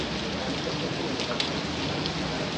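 Steady rain falls around a hotel swimming pool at a luxury hotel in Ahmedabad, a dense, even hiss of drops on water and paving, close and continuous.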